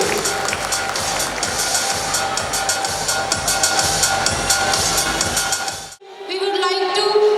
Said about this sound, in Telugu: Give her a big round of applause.